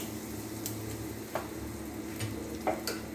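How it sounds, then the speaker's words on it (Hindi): Mustard seeds, cumin and asafoetida sizzle and crackle in hot oil, a steady frying hiss with a few sharp pops scattered through it, close and moderately loud with no talking. "हाँ, तेल गर्म हो गया तो इसमें डालेंगे थोड़ा सा सरसों, थोड़ा सा जीरा"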